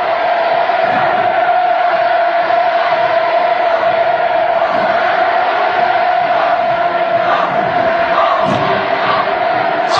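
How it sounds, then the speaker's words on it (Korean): A huge crowd lining the streets of the capital roars and cheers continuously as a motorcade passes, a dense, loud, steady wall of voices without pause. "자동차 행렬이 수도의 연도를 누벼나갈수록 군중들의 환호 소리는 하늘 땅을 진감했습니다"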